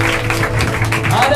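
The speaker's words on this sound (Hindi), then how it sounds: "चलिए जोरदार ताली बजाकर प्रभु को धन्यवाद।" A church congregation at an Independence Day service claps loudly and steadily in dense, continuous applause, with a tonal musical hum underneath.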